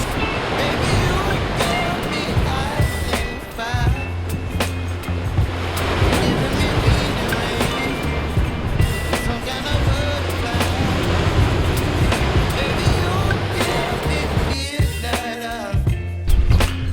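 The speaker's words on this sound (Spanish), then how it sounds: "en donde podemos encontrar este fuerte oleaje" Strong Atlantic surf crashes continuously on a remote beach at Fajana de Franceses on La Palma, loud and close, with roaring waves and wind buffeting the microphone.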